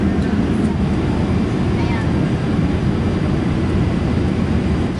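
Loud, steady low roar inside the cabin of a China Southern Airlines airliner on descent toward landing, a constant broadband engine and airflow rumble with no break.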